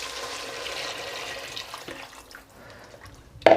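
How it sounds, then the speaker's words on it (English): Boiled water from a kettle poured into a pot of chickpea pilau rice, a steady watery rush that fades in the second half before a short sharp splash near the end. "Now to this I'm going to add 3 mugs of boiled kettle water."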